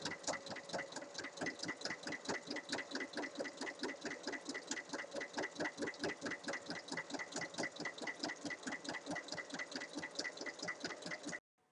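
A sewing machine runs steadily, stitching fabric for a zippered tote bag, with fast regular needle clatter and a motor hum. It is close and continuous for about eleven seconds, then stops abruptly.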